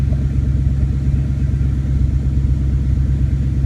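A 1993 Ford Mustang LX 5.0 V8 convertible running through gear changes, its low engine rumble steady and close, with a throbbing idle-like drone and no voices.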